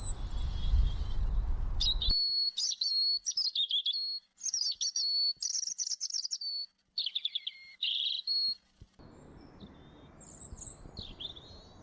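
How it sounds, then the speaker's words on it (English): Clear, high warbling European robin song in varied phrases separated by short pauses, close and bright, early morning, with some background hiss at the start and end. "The European robin is a popular songbird and is well known for having one of the most beautiful songs"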